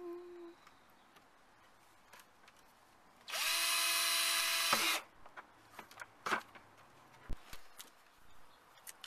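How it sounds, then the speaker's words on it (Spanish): A power drill whirs loudly for about two seconds drilling a plastic container, winding up and stopping, surrounded by quiet clicks and handling noises of plastic. "Con el mismo taladro,"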